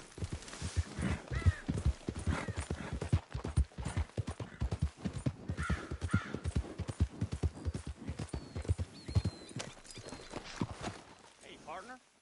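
Horse hooves clip-clop in a steady, rapid rhythm while riding in the video game Red Dead Redemption 2, a close, continuous drumming of hoofbeats with a brief whinny-like sound near the end.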